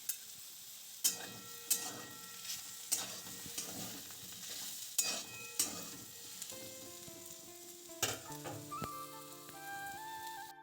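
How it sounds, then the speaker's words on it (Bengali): Lentils frying in a little oil in a wok, a steady sizzle with repeated scraping stirs at a regular rhythm, close and moderately loud, with no voices. "কড়াইয়ে একটু তেল দিয়ে আমি ডালটাকে ভেজে নিচ্ছি"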